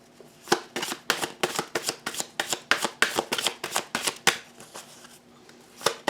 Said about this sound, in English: sometimes when they fall in the other direction, they're not supposed to be that way, so it just tells me I might have caused it somehow during shuffle